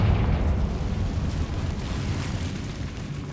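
A fiery blasting spell in Hogwarts Legacy bursts as a loud, rumbling explosion that rolls on and slowly fades, alone without talk.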